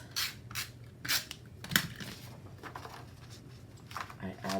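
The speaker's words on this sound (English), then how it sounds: "So I basically just take my tape runner and I run some tape" A tape runner laying strips of tape on a planner page: a few quick, close scratchy rasps in short bursts, heard quietly with soft handling noise between them.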